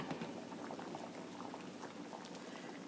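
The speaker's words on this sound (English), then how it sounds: "Oh, my eggs are boiling." Eggs boiling in a pot of water on a stovetop, a steady, close bubbling and roiling of water with no talking.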